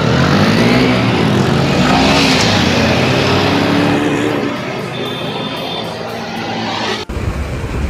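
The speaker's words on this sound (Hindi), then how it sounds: "अभी दोनों बाइक बराबर चल रही है" A Bajaj Freedom 125 CNG motorcycle and a Hero Splendor 100 petrol motorcycle race side by side in a drag race, their engines a loud, close, continuous roar that eases slightly partway through before a sharp cut near the end.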